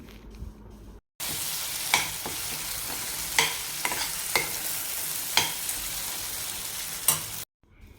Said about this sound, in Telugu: మిక్సీ వేసి పెట్టుకున్న ఈ పచ్చడిని కూడా వేసుకొని బాగా కలుపుకోవాలి